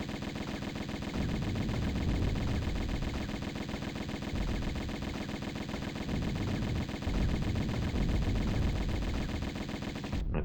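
Gunfire in a Tomb Raider Remastered boss fight, rapid, sustained automatic shots rattling in a continuous dense stream for the full length, loud and unbroken until a sudden stop at the end.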